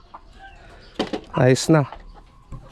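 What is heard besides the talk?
laying hens clucking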